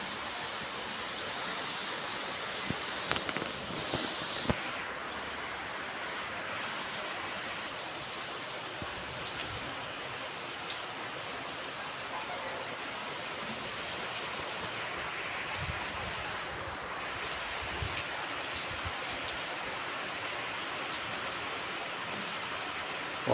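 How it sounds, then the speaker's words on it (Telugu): Rain falls steadily, a continuous even hiss of drops on surfaces that stays moderately loud from start to finish, with no voices. "నిన్న ఇప్పుడు ఇవాళ వర్షం పడుతుంది"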